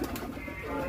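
A hand-held pigeon gives a soft, low throaty coo, brief and close, over light background noise.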